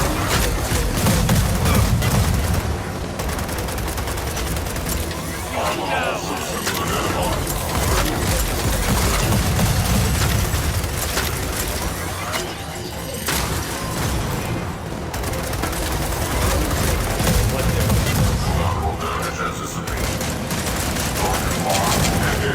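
Sustained bursts of gunfire from the Ember gun in a video game, dense rapid volleys with booms throughout, loud and continuous, with excited voices talking over the action.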